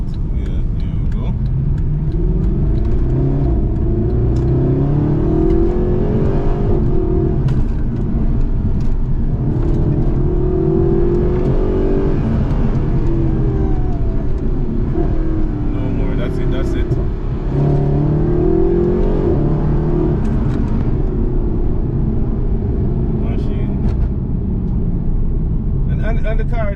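A Mercedes SLS AMG drives through the streets of Kingston, Jamaica, its engine droning and rising in repeated revs and shifts heard from inside the car, while someone talks over it almost continuously.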